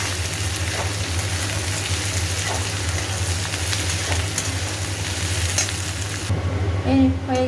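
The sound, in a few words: frying okra, potatoes and onion in a pan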